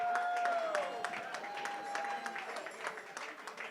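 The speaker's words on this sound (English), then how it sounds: "Give her one more big round of applause" An audience at an awards event claps for the woman who organized it, a soft, distant spread of applause mixed with crowd murmur and a sustained whining tone.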